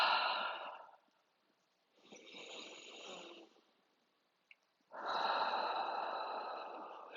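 Slow, audible breaths during a yoga session: a long airy exhale, a softer breath in the middle, then another sustained breath, close and calm with no talking.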